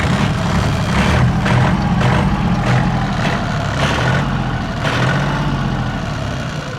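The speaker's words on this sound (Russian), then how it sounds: "Собственно, загорелся у нас двигатель." A Yanmar RS24 Japanese tractor with a cab runs its engine at a steady, loud idle, a continuous low diesel rumble with rhythmic pulsing and no speech over it.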